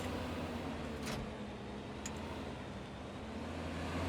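A steady, rumbling tractor engine in Farming Simulator 19 idles on a low, constant drone with a faint whine above it.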